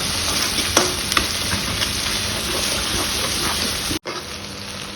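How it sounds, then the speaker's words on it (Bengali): Garlic frying in oil in a home kitchen pan for a red chicken curry, a loud continuous sizzle with occasional stirring clicks and a brief pause near the end; no talking. "রসুনটা ভাজা ভাজা হয়ে গেছে এবার ওই মশলাটা দিয়ে দেওয়া হবে"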